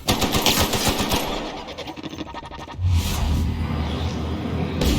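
Rapid automatic gunfire rattles in a close burst in The Outer Worlds video game, then fades into a heavier, steadier rumble of shooting and explosions.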